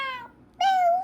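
A human voice imitates a cat's meow, with two clear drawn-out meows, the second longer and louder, close and alone.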